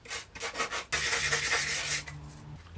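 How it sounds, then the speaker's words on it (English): Close, steady rubbing and rasping of a nail file sanding painted plastic on a skylight during a renovation, starting as short scrapes and then turning into a longer continuous stroke, with no voices. "the last thing I'm going to do is just sand this down with a nail file"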